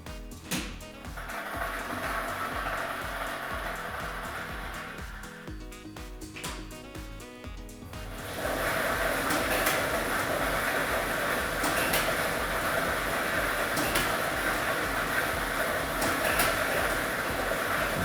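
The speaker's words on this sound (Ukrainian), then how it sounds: "І ми вмикаємо лототрон." A state lottery draw machine is switched on and its numbered balls tumble and clatter, a dense rattling churn that grows noticeably louder and fuller partway through and then holds steady, with no talking.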